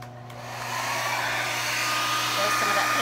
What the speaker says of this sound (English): I'm gonna get my hair dryer.